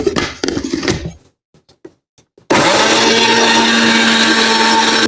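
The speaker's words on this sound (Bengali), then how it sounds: "সুজি দিয়ে আমি ভালো করে আর একটু ব্লেন্ডার করে নিব" An electric blender whirs loudly and steadily, mixing pitha batter with semolina, after a few seconds of clattering and handling noises beforehand.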